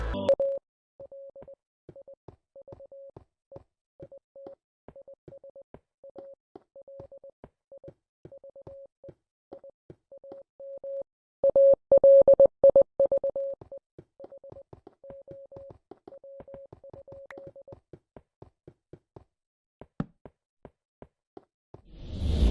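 Morse code beeps from an anti-piracy Minecraft version: a single steady tone pulsing in short dots and longer dashes with irregular gaps, accompanied by faint clicks, and a brief louder distorted burst midway, with no speech.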